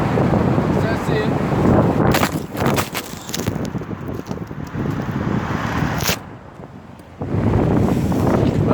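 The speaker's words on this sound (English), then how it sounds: "man, it is windy today." Strong wind buffets the microphone in heavy continuous gusts, briefly easing before roaring back; a voice speaks faintly underneath.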